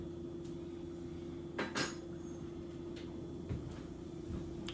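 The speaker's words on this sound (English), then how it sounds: "Hold on, let me stir this." Spoon scraping and knocking against a pot while chicken dressing is stirred, a few soft clinks over a steady low kitchen hum, no talking.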